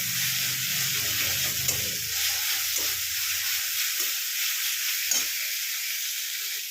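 Fenugreek leaves and eggplant frying in a pan give off a loud, steady sizzle, with a few soft scrapes from stirring breaking through the hiss.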